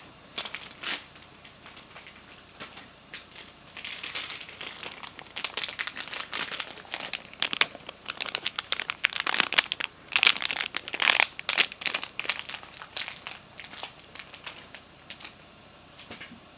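Crinkly plastic Disney Infinity blind bags are handled and torn open, producing bursts of sharp crackling and rustling that grow busier and louder in the middle before settling down.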